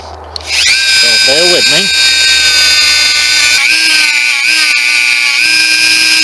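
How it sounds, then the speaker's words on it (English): A Dremel rotary tool with a wire wheel strips rust from an 1860 antique pistol, a loud high whine that spins up and holds steady while someone talks briefly over it. "what I'm going to try and do is just remove some of that using my Dremel tool."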